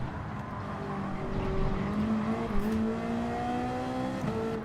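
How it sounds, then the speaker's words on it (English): Race car at the Nurburgring in wet conditions, tyres squealing with sliding, thin rising and falling tonal whines over a steady engine roar and road noise, continuous and close throughout. "Just listen to the tyre squeal and the damage that we're doing to these tyres already"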